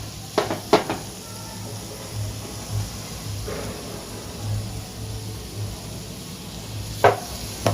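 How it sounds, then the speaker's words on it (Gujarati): Chikoo (sapota) pieces roast in ghee over a low flame for halwa, with a soft steady sizzle, a few sharp clacks of the spoon against the pan at the start and end, and quiet stirring scrapes between. "આ રીતે ચીકુને જોડે જોડે ધીમા ગેસે ઘીમાં શેકીશું સરસ એવા"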